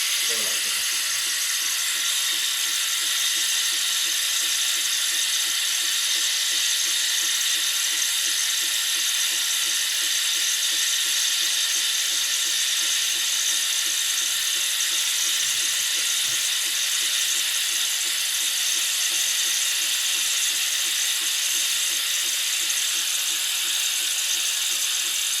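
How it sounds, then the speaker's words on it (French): A steady, loud hiss with a rapid rattling, ratchet-like chatter underneath, continuous for the whole stretch as the automatic cappuccino frother of a Saeco Lirika bean-to-cup coffee machine heats and draws milk through its tube. "le bruit d'un cappuccinateur automatique comme ça"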